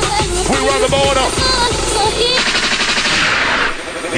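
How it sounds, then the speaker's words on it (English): Gunshot sound effects fired in rapid bursts over a loud, dense drum and bass live mix, with an MC's chanting voice riding on top of the music. "a gunshot means forward"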